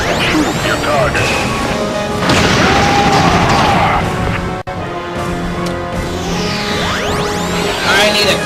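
Explosions in a Space Invaders video game crash and boom continuously, loud and dense, with whooshing sweeps layered through the barrage and a brief dropout midway.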